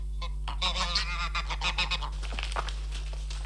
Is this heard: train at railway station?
no